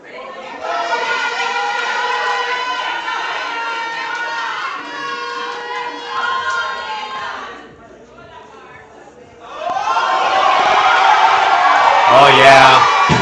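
Jamaican supporters at a powerlifting championship in Grand Cayman cheer and whoop loudly and continuously, dip briefly, then surge again into a louder roar with shouting.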